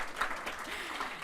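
An audience applauds at a public talk on open government budgets in Tanzania, a brief, steady burst of many hands clapping that sounds moderately near.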